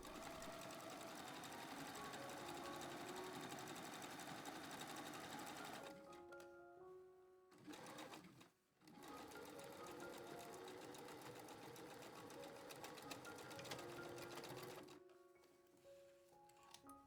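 Sewing machine stitching stretched fabric for a simple skirt, a loud, fast, even mechanical whirring in long runs that pause briefly and then resume, close up with no talking.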